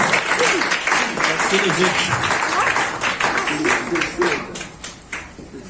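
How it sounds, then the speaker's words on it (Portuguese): A church congregation claps during a worship service, a mixed spatter of hands rising and fading over several seconds, with voices speaking and calling out over the clapping throughout. "Pode aplaudir ao Senhor"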